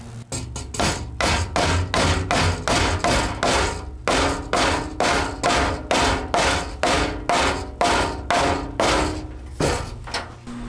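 Steady hammer blows drive a wire guard into an electrical box in a salvaged mobile home, about two dozen sharp, evenly paced knocks ringing out close and loud with no talking.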